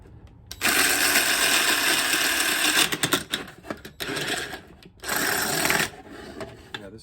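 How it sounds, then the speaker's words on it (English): A struggling, underpowered drill bores holes into a mannequin head being made into a planter, whirring loudly in three close bursts, a long one, a choppy one and a short final one, with brief pauses between. "Yeah, this drill is dying."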